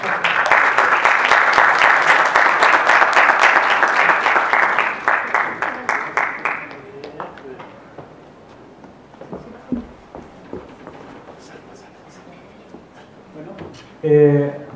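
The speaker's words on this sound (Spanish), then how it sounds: "Fuerte un gran aplauso a los académicos" Audience applauding loudly and steadily for several seconds after a health-system lecture in Chile, then fading to scattered claps and murmurs, with a brief burst near the end.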